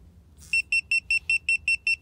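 An Avital car alarm with a display remote, fitted to a Toyota, sounds a series of about eight sharp, evenly spaced electronic chirps, loud and close, after a brief quiet start.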